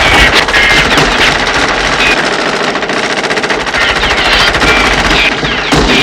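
Rapid sustained machine-gun fire in the 1988 film The Blob, a loud, dense, unbroken rattle of shots lasting several seconds with a brief dip near the end.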